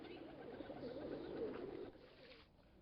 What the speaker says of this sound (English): Monogamous doves have been symbols of love and peace for centuries